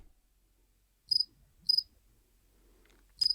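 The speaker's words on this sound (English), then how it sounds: "Really should have taken care of that cricket before I started recording." A cricket chirping indoors, three short bright chirps spaced apart against near silence.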